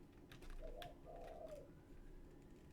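A bird, likely a pigeon, coos outside with two soft low hooting calls, faint and somewhat distant, amid a quiet room and a few light clicks.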